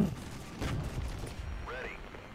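Distant gunfire from troops in the Regiments war game, a few scattered shots and dull bursts over a low rumbling battlefield bed, fairly faint, with a brief whistling tone near the end.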